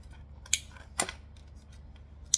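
Scissors trim the material of a handmade wallet after back stitching, making three crisp, short snips close by, with a quiet pause between each cut.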